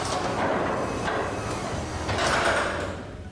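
A smart garage door controlled through Samsung SmartThings rumbles closed, a continuous mechanical grinding with a couple of louder swells, fairly close and steady without talk.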